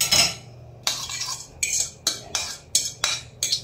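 Utensils clink against a container as a salad is moved into a larger one, giving about eight sharp, bright metallic taps at an uneven, steady pace, close and clear with no talking.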